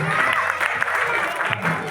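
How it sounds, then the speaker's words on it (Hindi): At a Republic Day celebration in Rajokri, Mehrauli, a crowd claps in welcome, a short, steady burst of applause with voices and some cheering mixed into the noise. "एक बार इनका तालियों के साथ स्वागत करें, तालियां बजा करके"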